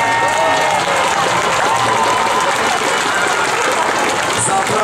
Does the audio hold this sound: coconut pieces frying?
no